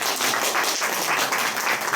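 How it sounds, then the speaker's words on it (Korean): A lecture audience at a talk on anti-corruption and integrity policy claps after the speaker finishes, a brief, dense burst of applause filling the room. "김거성 감사관님께 협찬 박수를 보내주시기 바랍니다"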